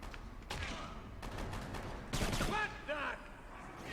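Gunfire in the video game Kane & Lynch 2, bursts of rapid shots and fusillade-like volleys mixed with shouting voices, fairly loud and continuous through the clip.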